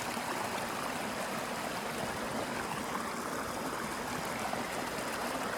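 A creek flows in a steady, even rush of water, close and unbroken for the whole stretch.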